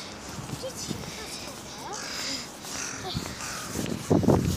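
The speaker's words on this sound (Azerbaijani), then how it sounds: "Baxın qarğa." A crow caws a few times at a distance over outdoor background noise, with people talking nearby.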